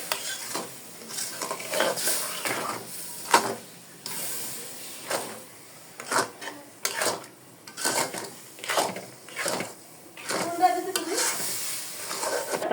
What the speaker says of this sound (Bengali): এখন আমি দিয়ে দিব লিকুইড দুধ, যাতে আমার সুজিটা ফুটে যায় সেজন্য।